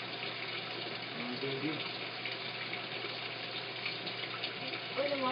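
A washing machine filling with water gives a steady, continuous rush of running water that sits close and fairly loud throughout, with people talking briefly over it.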